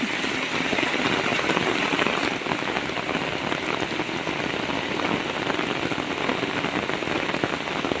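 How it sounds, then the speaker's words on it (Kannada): Heavy rain pours down steadily, a dense, unbroken hiss of drops drumming on surfaces throughout. "ಜೋರು ಮಳೆ ಬರ್ತು ಉಂಟಂದ್ರೆ ಹೊರಡುವಾಗ ಮಳೆ ಬಂತು"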